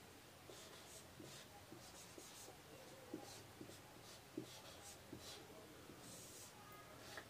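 Chalk or marker writing on a board in a classroom gives soft, faint scratching strokes in short repeated bursts. The strokes come in a steady rhythm over a quiet room background.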